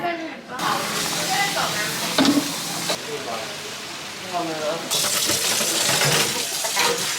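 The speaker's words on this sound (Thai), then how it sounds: "ตอนเนี้ยนะครับต้องล้างจานกันอย่างตั้งใจนะครับ" Running water splashes with clinks and scrapes of dishes being washed at a restaurant, over a busy background murmur, with a brighter hiss of water in the second half.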